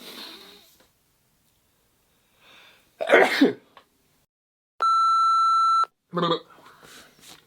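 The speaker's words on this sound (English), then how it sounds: "Just had to sneeze." A single loud sneeze amid quiet talking, followed by a steady electronic beep and more speech.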